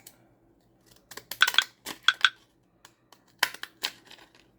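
Scissors trim the edges of a paper page for a glue book: a few quick, crisp snips in small clusters, close and fairly quiet, separated by brief pauses.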